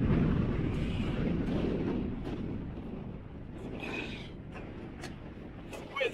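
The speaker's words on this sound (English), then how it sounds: "Did you hear that wind?" Strong wind buffeting the microphone on the Mine Shaft Alpine Coaster in Big Bear, California, a loud steady low roar filling the whole stretch and easing slightly toward the end.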